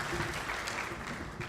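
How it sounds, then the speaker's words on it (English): A crowd at a foundation legacy luncheon in Waco claps for advisory board members, a continuous, moderately soft spread of applause with no pauses. "Give them a round of applause."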